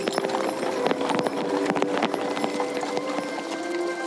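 Horses walk a pioneer trail, their hooves clip-clopping in a steady, overlapping rhythm at close range over a background of outdoor ambience, with no talking.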